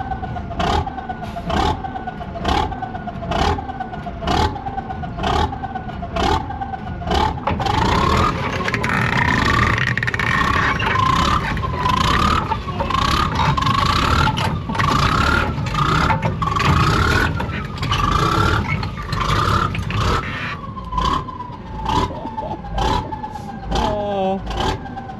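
A tank engine roars and revs repeatedly as the driver struggles to find a gear, with rhythmic mechanical clanks and bursts of acceleration, loud and close, while people talk over it.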